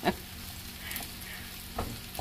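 Steady sizzling of potatoes, green peppers and tomatoes frying in a pan, with a few louder clatters of the pan being moved at the start and near the end.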